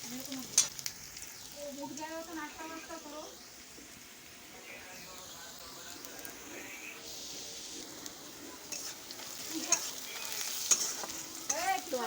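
Hilsa fish frying with onions in a pan, a soft steady sizzle with occasional stirring scrapes, heard close but fairly quiet beneath someone talking throughout.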